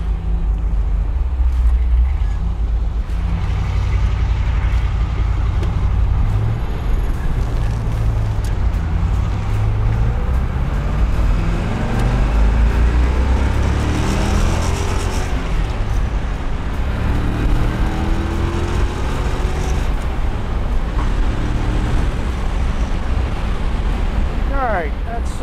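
A 1963 fuel-injected car on the road, its engine pulling steadily and revving up toward 6,000 RPM, with heavy wind and road rush over the sustained drone, recorded from inside while driving.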